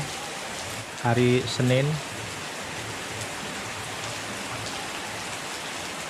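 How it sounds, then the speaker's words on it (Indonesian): Steady morning rain pours down in a constant wash of noise on a Monday, with someone speaking briefly over it near the start. "sekarang hari Seninnya diguyur hujan nih guys"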